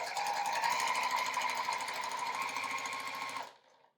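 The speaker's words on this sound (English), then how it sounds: "I'm going to first sew together my half blocks" Sewing machine running steadily at speed while chain piecing quilt half blocks, a close continuous whirring hum with rapid needle rhythm, stopping abruptly near the end.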